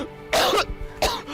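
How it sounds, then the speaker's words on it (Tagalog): Two heavy, harsh coughs burst out in quick succession, loud and close, with a short raspy pause between them. "Uy, ang tindi ng ubo mo."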